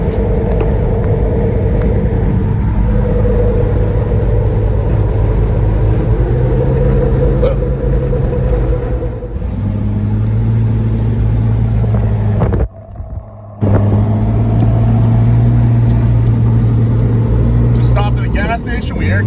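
A Jeep Wrangler engine drones steadily while driving off road on a desert trail near Las Vegas, the tone shifting as it changes gear, with heavy wind noise over the microphone.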